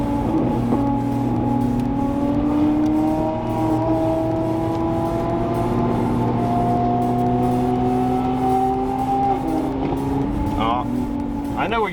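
A pace car on a race track in Japan, carrying a Ferrari 458 LBWK Silhouette behind it, drives with a steady engine drone whose pitch climbs gradually, close and continuous, with people talking over it.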